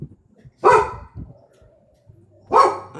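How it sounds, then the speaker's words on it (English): A pet dog barks indoors at home, with two loud, sharp barks spaced about two seconds apart and faint quieter sounds in between. "I don't know if there's somebody at my door or if my dog's losing her mind"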